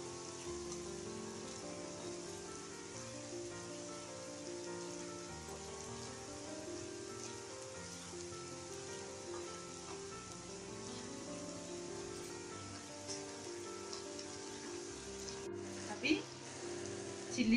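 Ginger chicken curry fries quietly in a pan, a faint, steady rain-like sizzle running throughout with a couple of small knocks near the end.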